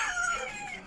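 Bantam chickens clucking and crowing close by, a short burst of high, bright fowl calls at moderate loudness with no talk.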